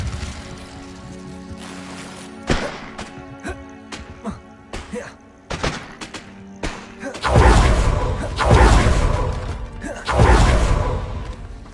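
An Incendio fire spell is cast in Hogwarts Legacy, with scattered thuds giving way to two loud, rushing bursts of flame close up.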